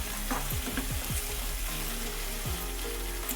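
Spring onions sizzle and fry in a cooking pan while being stirred, with a continuous close hiss broken by several scraping strokes of the spatula against the pan.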